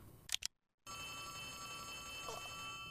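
Inside the horror video game Poppy Playtime Chapter 3, a telephone rings with a quick faint double trill, followed by silence and then a low steady ambient hum with a faint chime.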